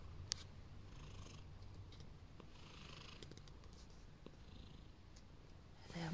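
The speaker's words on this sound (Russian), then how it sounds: "Короче, она мурчит. Она мурчит у нас очень громко." An 11-year-old cat purrs softly and continuously, close by, with a few faint clicks and rustles over the low rumbling.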